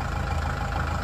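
A 2020 Kubota L4760 compact tractor fitted with an LA1055 quick-attach loader, its engine idling in a steady, even mid-low rumble, close and continuous for a short moment with no talking.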